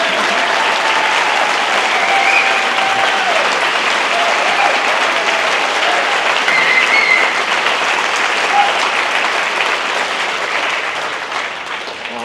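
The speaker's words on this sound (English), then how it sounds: "Daniel really deserves an applause." Sustained applause from a lecture audience at a liberty-themed speaking event, steady and fairly loud throughout, easing off slightly toward the end.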